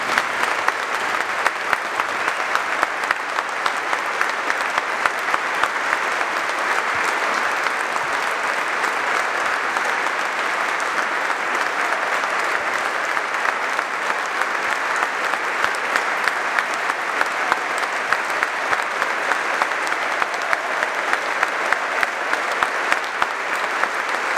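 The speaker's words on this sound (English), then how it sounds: "Please join us in a period of applause to remember that courageous young Charlton fan." Stadium crowd at a Charlton match applauding in tribute to a young fan, a steady, dense wash of clapping from thousands of hands that holds evenly throughout without a break.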